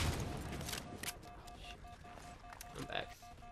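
Rapid automatic sniper rifle fire in the Halo Spartan Ops video game, heard as bursts of sharp cracks scattered through the clip, often under excited talk from a player.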